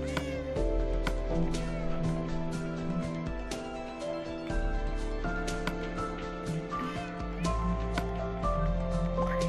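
Synthetic Minecraft cat meows repeat over busy background music and game sounds, steady and fairly loud throughout.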